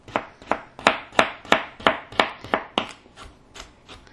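A knife chopping a peeled carrot on a board, about a dozen crisp evenly spaced cuts at a steady rhythm, close and distinct, fading slightly toward the end, with no talking.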